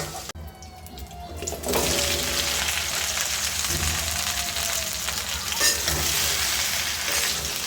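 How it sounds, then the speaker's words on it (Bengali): Okra (bhindi) fries in a hot pan for a curry, opening with a clatter before a loud, steady, close sizzle that fills the rest of the clip. "নামিয়ে ভেন্ডিগুলো ভেজে নেব"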